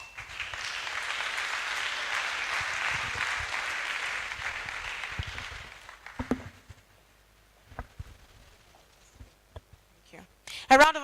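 Audience applauds at an International Youth Day 2024 event, a dense burst of clapping for about six seconds that fades into scattered claps and room noise, with a few louder knocks near the end.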